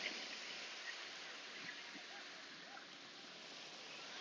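Steady, loud wash of wind and surf at a seashore at sunset, a broad continuous roar without pauses that fills the whole stretch, with no voices over it.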